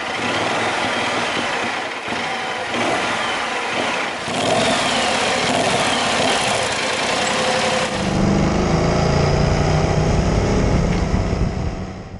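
A BMW C 650 Sport premium scooter engine runs steadily for about twelve seconds in gelid winter conditions, droning with slight swells in revs, loud and close with no voices.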